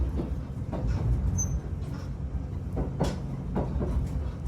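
SL Yamaguchi steam locomotive train running on rails, a steady low rumble of rolling carriages with faint clicks, heard from on board.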